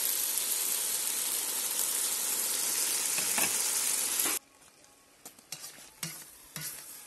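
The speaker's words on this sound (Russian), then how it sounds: "Печень жарится" Liver with garlic frying in a kazan over a campfire gives a loud, dense sizzle with stirring for about four seconds, then drops to a faint crackle broken by a few short sizzling bursts.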